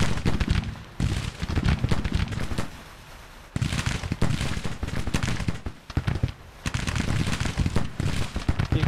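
Long-range cannon fire in a Confederate war video game comes as dense crackling volleys of booms and pops in three long bursts, with short lulls between them.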